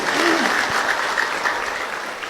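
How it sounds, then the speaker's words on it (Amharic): A crowd claps continuously, a loud dense patter of applause with a brief voice near the start. "አጨብጭቡና ገለጹ"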